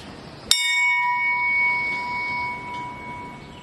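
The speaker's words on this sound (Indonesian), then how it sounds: "lonceng ini dibunyikan mengiringi kepergian jenazah sampai ke liang lahat" A single funeral bell is struck once, its clear metallic tone ringing out and slowly fading over a few seconds.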